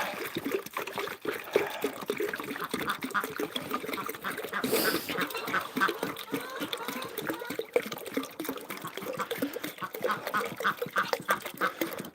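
Farm ducks quack repeatedly at close range alongside trickling water as the birds are watered, forming a steady, busy outdoor din with occasional faint speech.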